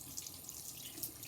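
A bathroom tap runs steadily while face scrub is rinsed off, soft continuous water flow with faint splashes and drips in the sink, fairly quiet and close.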